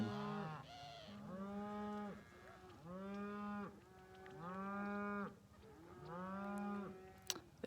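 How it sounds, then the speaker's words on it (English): Cows that have come down from mountain pastures moo loudly and repeatedly, four long drawn-out calls in close succession, near and clear, with a brief sharp knock at the end. "They're like constantly mooing."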